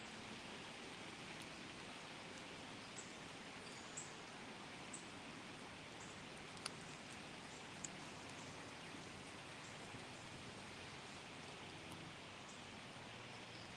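Soft, constant rainfall hisses in the background at Culp's Hill, Gettysburg, faint and even, with occasional sharper drips and ticks standing out now and then.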